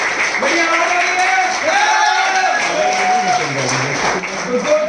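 Audience applause for a leader on stage at a direct-selling business event, steady clapping running throughout with voices and a tonal sound layered over it.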